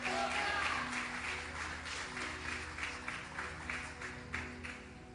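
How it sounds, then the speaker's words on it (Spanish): A church congregation applauds, a dense patter of many hands clapping at moderate distance over a low steady hum, gradually thinning out. "Si le va a dar un aplauso, déselo fuerte al Señor"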